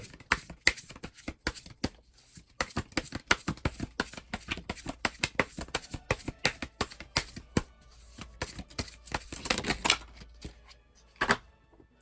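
Oracle cards being shuffled by hand, a long run of crisp rapid riffling flutters and clicks, close and fairly quiet, with no talking.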